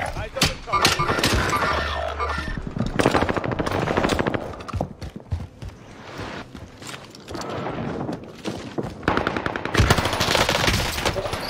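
An MG42 machine gun fires in rapid, dense bursts in the Call of Duty Vanguard game, loud and sustained with brief pauses, while a voice talks over the gunfire.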